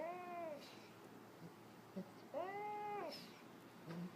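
A cat meowing, two or three drawn-out wavering meows at close range, spaced a couple of seconds apart, with faint noise in between.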